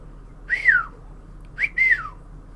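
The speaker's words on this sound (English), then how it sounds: "There was a half-assed whistle" Two short, sliding whistles from a person, close and fairly soft, each falling in pitch, separated by a brief pause.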